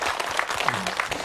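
Brief burst of studio audience clapping on an Indonesian Islamic television program, fairly moderate in level, with a faint voice slipping in partway through.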